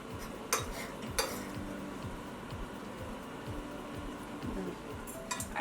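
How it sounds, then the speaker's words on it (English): Egg muffin mixture is stirred in a bowl with a utensil, giving faint rhythmic scraping strokes over a low background hum, with a couple of louder clinks against the bowl. "I might mix that one up a little bit more"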